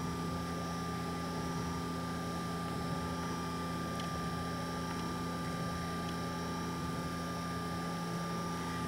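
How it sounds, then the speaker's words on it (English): Small prop motor running at low speed from a 12 volt 5 amp power supply, giving a steady continuous hum with a low drone, alone and unchanging throughout. "I'm going to run the prop motor with the low speed wire hooked up to the 12 volt 5 amp power supply"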